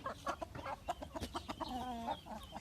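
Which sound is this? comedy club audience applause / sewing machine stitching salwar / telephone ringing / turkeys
turkeys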